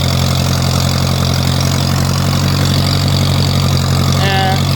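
A Ferguson tractor engine, a 9N, 2N or 8N era machine, idles steadily up close as a continuous low rumble for the whole stretch, with a brief tonal squeal near the end.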